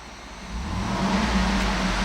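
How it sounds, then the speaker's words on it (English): The 6.2-liter V8 of a 2010 Cadillac Escalade AWD revs while parked, a dense low engine roar climbing slightly in pitch and loudness, heard close up and steady with no voices. "I'm going to rev the engine."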